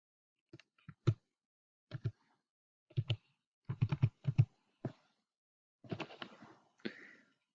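Someone types a booking reference on a computer keyboard, producing close, crisp key clicks in short irregular bursts of one to several strokes separated by brief pauses, with no talking.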